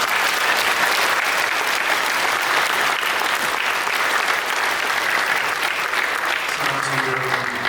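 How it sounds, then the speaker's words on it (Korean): Church congregation giving a sustained round of applause of thanks to God during a worship service, dense and steady clapping from many hands, loud and continuous, with a voice beginning to speak under it near the end. "우리 하나님께 우리 감사의 박수를"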